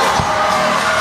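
Crowd cheering a Singaporean silver medal at a Swimming World Cup event in Singapore, a loud, dense roar of voices filling a brief moment.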